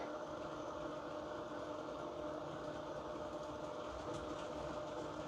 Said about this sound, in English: I'm going to get another train going on the central part of the 4th loop, inner loop.